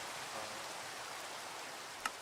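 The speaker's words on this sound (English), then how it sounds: "Immediately started raining." Rain falls in the Minecraft video game as a soft, steady hiss, with one brief click near the end and no voices.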